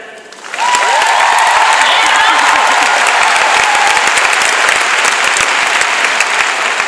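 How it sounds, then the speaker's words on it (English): Sudden burst of audience applause from a conference crowd, dense steady clapping that starts abruptly after a quiet moment and stays loud and sustained throughout. "If you just clapped your hands"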